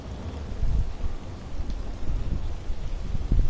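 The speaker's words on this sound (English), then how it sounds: "I can't even hear you now because it's raining" Steady rain with low rumbles of thunder in the Red Dead Online video game, a continuous dense wash of storm noise with gusty low-end swells, playing alone without talk.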